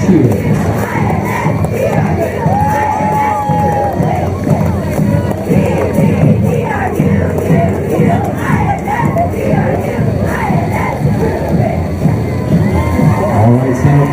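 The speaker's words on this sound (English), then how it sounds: "Let's give them a big cheer." A parade crowd in Santa Clara cheering for a school spirit squad at the 2019 Parade of Champions, loud sustained shouting, whoops and children's yells filling the whole stretch without letup.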